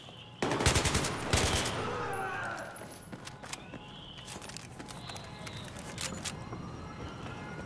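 RPK machine gun fire in Battlefield 3 on Xbox 360: a burst of rapid automatic shots up front, then scattered shots, clatter and battle noise trailing on at a lower level.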